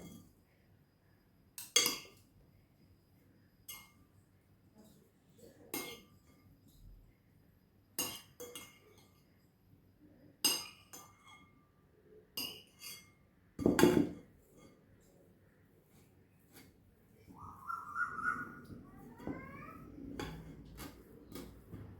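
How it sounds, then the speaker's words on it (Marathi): Thick hung curd is pushed through a metal puran strainer, with sparse close clinks and scrapes of spoon on metal between quiet pauses. "आता आपण हा चक्का पुरणाच्या चाळणीने चाळून घेऊया."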